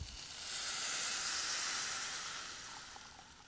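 Two and a half cups of water pour into a glass Pyrex microwave-safe bowl, a soft rushing splash that swells, holds, then tapers off over a few seconds, with no talking.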